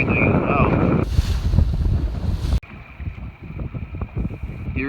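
A sailboat in an evening club race rounds the top mark, with loud wind buffeting the microphone and water rushing and splashing against the hull throughout.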